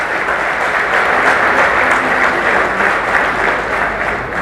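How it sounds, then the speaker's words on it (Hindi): Loud, sustained applause fills a hall at a Central Bank of India event as an audience claps for an honoured guest, a dense, even roar of many hands close by. "इसलिए पार्टी साहब के लिए एक बार जोरदार तालियां"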